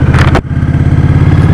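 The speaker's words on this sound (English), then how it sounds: "Oh yeah, it's got a nice engine." A 2016 Indian Scout motorcycle engine runs steadily while riding, giving a loud, close, continuous low rumble with a pulsing throb, after a short burst of wind or mechanical noise at the start.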